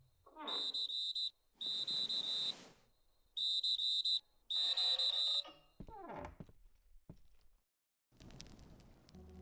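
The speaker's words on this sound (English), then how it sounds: "A sharp, piercing whistle cuts through the air." A sharp, piercing whistle sounds in four loud, steady bursts of about a second each, separated by short gaps, followed by a falling swoosh and then a burst of rustling noise.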